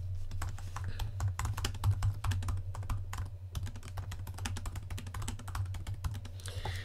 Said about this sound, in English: you could type in whatever that scheduled SMS is going to be